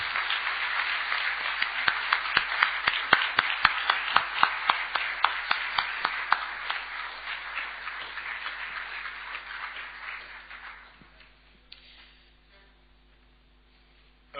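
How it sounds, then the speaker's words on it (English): An audience at the end of a conference's closing plenary session applauds with dense, steady clapping. A few sharp individual claps stand out before the applause thins and fades to near silence. "A hearty applause all to you."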